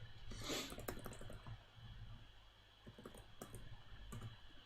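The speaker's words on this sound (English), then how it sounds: "Either the tapping you're doing from your keyboard" Faint tapping on a computer keyboard during a drawing session, scattered soft clicks in an uneven rhythm over low background hum, with no voices.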